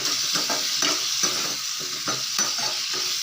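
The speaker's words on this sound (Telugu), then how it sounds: "వేసుకొని ఒకసారి బాగా కలిపేసుకుందాం" A spoon scrapes rhythmically through a sizzling pan as tomatoes and green chillies are stirred for punarnava leaf chutney, the regular stirring strokes sitting over a steady frying hiss.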